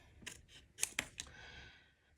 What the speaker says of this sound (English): I'm going to pick up my scissors and cut it out